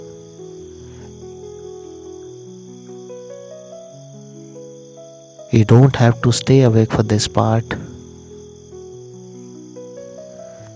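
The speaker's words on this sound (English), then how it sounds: "The crickets kept their rhythm." Steady high-pitched crickets chirping throughout, with a soft melodic tone underneath and someone speaking briefly near the middle.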